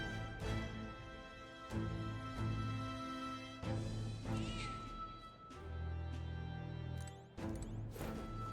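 A cat meows a few times in the video game Metaphor: ReFantazio, heard fairly close over steady background music.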